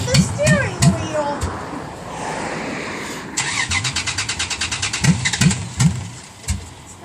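A Dodge Ram truck engine cranks over in a cold, hard start, stuttering several times before catching into a rough, pulsing run, with people talking nearby.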